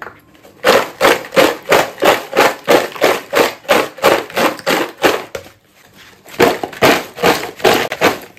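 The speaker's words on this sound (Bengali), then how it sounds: "ওই মশলাটা দেখো দিয়ে ভালো করে এটাকে মাখাবো ঝাঁকিয়ে ঝাঁকিয়ে" Homemade crispy potato chips being shaken with spice mix in a container, a fast rhythmic series of loud rattling shakes, a brief pause, then another burst of shaking, with no talk.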